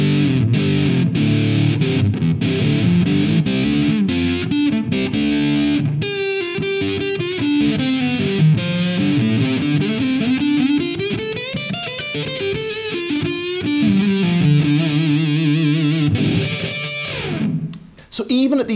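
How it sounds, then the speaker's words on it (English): Electric guitar played through an Orange Fur Coat fuzz pedal set at the 9 o'clock position: a loud, dense, buzzy distorted riff with sustained chords and moving notes, playing continuously for about 17 seconds before a brief drop near the end. "rolling things back, we do get a little more subtlety as we go back to the 9 o'clock mark"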